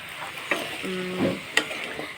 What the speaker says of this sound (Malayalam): മസാലയെല്ലാം നന്നായിട്ട് എല്ലാത്തിലും പിടിക്കാവുന്ന രീതിയിൽ ഇളക്കി കൊടുക്കുക